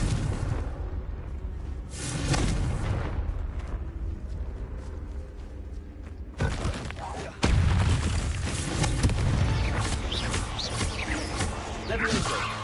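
A Confringo blast spell in Hogwarts Legacy lands with several booming bursts and a sharp explosive hit midway, set against dense combat noise and rumbling low impacts.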